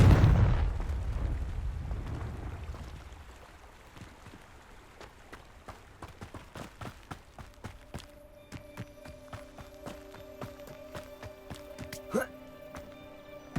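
Confringo blasting spell exploding in the video game Hogwarts Legacy, a loud booming blast that rumbles and fades, followed by a stream of sharp crackling pops and impacts with footsteps and a tonal game score beneath.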